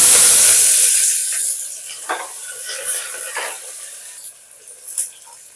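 Chopped onion frying with cardamom, clove and cinnamon in hot oil, starting with a loud burst of sizzle that fades to a gentler crackle, broken by several scraping stirs of a spoon against the pan.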